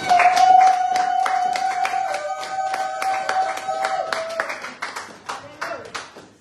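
A church congregation at a Sunday service breaks into loud, steady clapping and applause that gradually thins and fades, with a sustained musical tone and some voices underneath.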